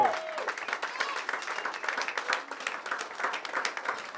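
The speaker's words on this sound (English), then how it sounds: "let's give again a big round of applause for Madam Gabi and Toutele." A gala dinner audience applauds, with dense, steady clapping from many hands that stays fairly even for about four seconds, plus a brief voice at the very start.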